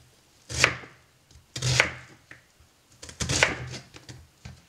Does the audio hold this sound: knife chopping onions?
yes